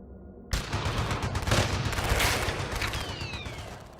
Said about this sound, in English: we heard gunshots in the distance.